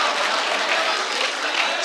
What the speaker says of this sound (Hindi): एक बार जोरदार तालियों से इस्तकबाल किया रहा है